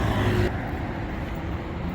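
Steady road traffic from cars and buses on a nearby roadway, a continuous broadband rumble with vehicles passing, recorded outdoors by a street on the way to a market.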